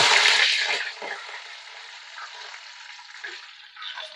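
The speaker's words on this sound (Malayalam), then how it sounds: "ഉലുവയെല്ലാം കടുകും പൊട്ടിക്കഴിഞ്ഞ് ഇനി കറിവേപ്പിലേക്ക് കൊടുക്കാം." Curry leaves hit hot oil after fenugreek and mustard seeds have popped, for an Onam lemon pickle, giving a loud sizzling burst that quickly settles into a softer, steady crackle.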